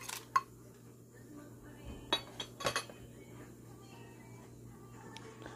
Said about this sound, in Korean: 이제 다슬기를, 아까 뒤를 딴 다슬기를 넣어주겠습니다